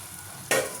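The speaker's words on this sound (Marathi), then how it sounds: "मटारचं जे उकळून घेतले होते आपण तेच पाणी आपण यात टाकून घेणार" Hot water saved from boiling peas hits the hot pan of matar bhaji, and after a quiet moment a sudden loud hissing sizzle bursts out and then settles into a steady simmering hiss.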